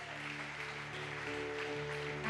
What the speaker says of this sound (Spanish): Denle un fuerte aplauso a Jesús.